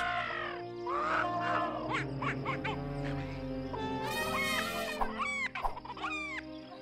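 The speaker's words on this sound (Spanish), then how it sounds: "Dios trajo a los animales, los reptiles, los insectos y los pájaros." Birds and animals enter Noah's ark in a film scene: chickens cluck and crow and other birds caw and chirp, a crowded, overlapping chorus of animal calls under a low, steady background.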